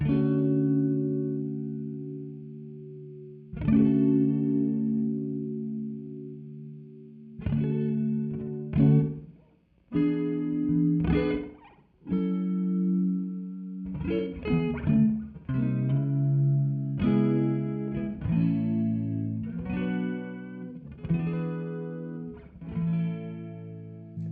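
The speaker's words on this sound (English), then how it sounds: "This nice chorusy reverb type sound." Time Dilation V5 plugin adds a lush chorus-like reverb modulation to a sequence of sustained, shimmering instrument notes and chords, swelling and wavering through repeated phrases with gaps between some notes.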